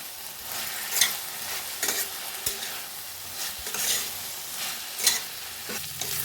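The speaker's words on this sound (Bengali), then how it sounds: "মশলার মধ্যে ভেজে রাখা আলুগুলো দিয়ে দেবো আর সয়াবিন বড়িগুলো দিয়ে দেবো দিয়ে মশলার সাথে ভালো করে নেড়ে চেড়ে নেব" Fried potatoes and soybean chunks are stirred into sizzling masala in a pan, giving a continuous sizzle broken by repeated scraping strokes of a spatula.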